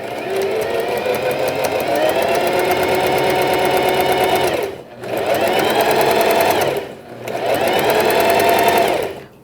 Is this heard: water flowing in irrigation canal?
no